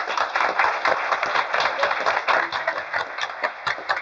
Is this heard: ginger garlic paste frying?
no